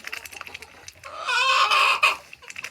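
Farm chickens clucking close by, a run of short clucks that rises into a louder, drawn-out squawking call before settling back to scattered clucks.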